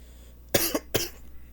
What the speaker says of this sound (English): I'm sorry, I have a bad cough.